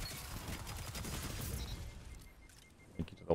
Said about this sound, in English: Made it very easy to hit that shotgun shot.